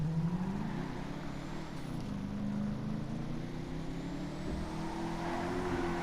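Car driving in GTA V Online, with a steady engine hum that rises and falls slightly as it cruises, moderately loud and continuous, with no speech.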